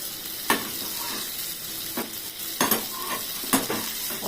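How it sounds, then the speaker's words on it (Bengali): Pointed gourd (potol) frying in oil in a pan, with a steady close sizzle broken by several sharp stirring scrapes of a utensil against the pan. "এই বলতে বলতে আমার পটল ভাজা মোটামুটি হয়ে গেছে, আর একটুখানি হবে।"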